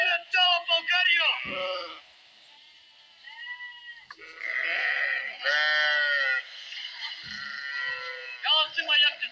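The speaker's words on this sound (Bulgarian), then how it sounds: "Ето и ягнетата ще снимам" Sheep and lambs on a farm bleat repeatedly, with loud close wavering calls in several bursts and some higher lamb cries, while a person talks between the calls.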